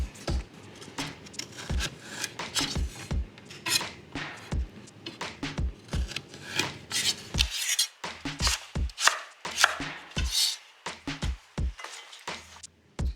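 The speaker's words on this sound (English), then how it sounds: "we're going to cut the whole thing into quarters, and we're just going to remove that hard stuff" A knife cuts parsnips into quarters on a board, giving a long run of crisp, close chops and thuds at an irregular, brisk pace, with no talking.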